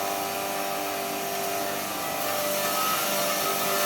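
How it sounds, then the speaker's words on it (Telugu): Turmeric roots being ground into powder by a motorised grinding machine, a loud, steady broadband mechanical whir that runs continuously without pause. "పసుపు కొమ్ములు మిషన్ ఆడిస్తున్నాం."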